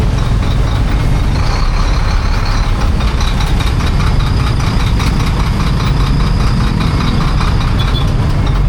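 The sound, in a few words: heavy traffic with large parked trucks idling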